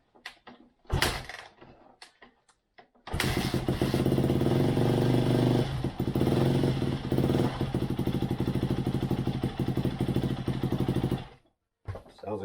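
A 2008 Yamaha YZ250F dirt bike engine with an exhaust leak starts after a few short bursts, then idles loud and close with a ragged, popping exhaust note before cutting off abruptly.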